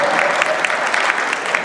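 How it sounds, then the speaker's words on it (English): Audience applause at a talk: a dense, even wash of clapping from a crowd, held at a steady level throughout. "We should applaud."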